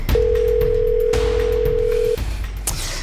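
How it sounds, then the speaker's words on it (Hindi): A single steady electronic tone rings for about two seconds over loud background noise, like a telephone ringing tone heard through a handset. "फोन लगा बेटा, फोन लगा, इसे फोन लगा"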